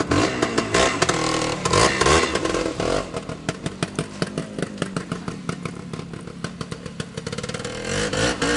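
A 1975 Suzuki TS185 motorcycle engine revs up loud and close, with a rapid popping two-stroke idle and sharp bursts of throttle throughout.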